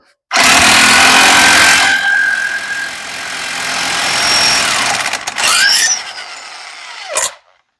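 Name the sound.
electric impact wrench removing a car axle nut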